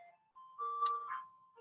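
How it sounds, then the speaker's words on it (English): An ice cream truck passes outside, its melodic chime playing clear sustained tones at moderate distance, with a brief brighter burst midway and no talking over it. "There's an ice cream truck passing"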